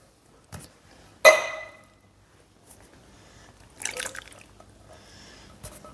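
Wet plops and drips as two 14.5-ounce cans of diced tomatoes with their liquid go into a pot of smoked brisket chili, a few separate splashes with quiet gaps between them.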